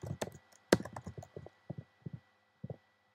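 Sparse, close keystrokes on a computer keyboard while text is entered into web form fields, a quick cluster of clicks followed by single taps spaced out over a few seconds in a quiet room.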